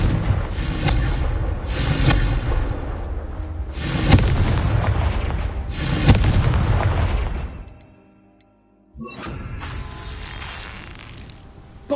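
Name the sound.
Confringo blasting spell explosions from the video game Hogwarts Legacy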